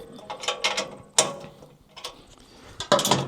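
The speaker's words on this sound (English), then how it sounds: "I'm gonna have to loosen those just a touch to make that happen" Metal clicking and ratcheting as a bolt is loosened on a Wolfe Ridge VS umbrella mount accessory, a few quick close clicks, then a sharp snap, then more clicks after a short pause.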